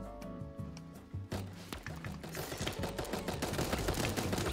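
Repeated gunfire from a gun in the video game Super Animal Royale, rapid bursts of shots that grow denser and louder over a few seconds, with busy game sounds behind.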